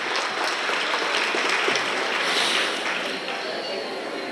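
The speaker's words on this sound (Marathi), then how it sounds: "आपण सर्वांनी टाळ्या वाजून सहर्ष स्वागत करूया" A crowd claps steadily to welcome a guest at a political gathering, a broad, even wash of applause that stays loud across the whole stretch with a faint voice beneath it.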